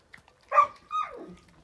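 Two short, nearby dog vocalizations, a sharp bark followed by a whiny, falling yelp, in otherwise quiet surroundings.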